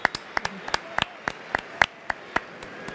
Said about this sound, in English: Round of applause, guys, for Lamine Yamal.